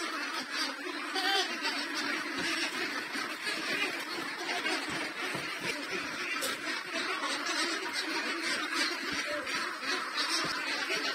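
Ducks on a duck farm quacking steadily in a dense flock, a continuous chorus of overlapping calls at moderate distance with no pauses.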